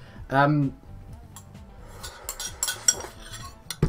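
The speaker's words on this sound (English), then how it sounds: "let's race and move this bowl out of the way" A bowl being moved aside with cutlery clinking, giving a few light clinks and scrapes that cluster toward the end, fairly close and soft, with a voice talking briefly near the start.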